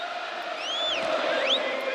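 Large stadium crowd at an NFL football game between the Ravens and Chiefs in Kansas City, a broad sustained roar that swells louder midway, with whistle-like calls rising above it and no voices standing out.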